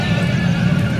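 A young horse for sale at a livestock market in Mandi Aminpur Bangla neighs loudly and close by in one sustained whinny, with no talk over it.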